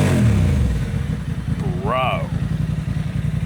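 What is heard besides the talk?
Honda CB750 Hornet motorcycle revving with Yoshimura exhaust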